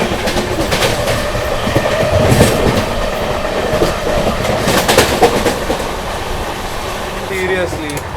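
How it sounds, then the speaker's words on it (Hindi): A Gaya special train is overtaken on the adjacent track, heard from aboard the New Delhi–Gaya Mahabodhi Express. Loud wheel rattle and clickety-clack mix with rushing air and voices nearby. "गया स्पेशल को कर दिया ओवरटेक यहाँ पर हम लोगों ने।"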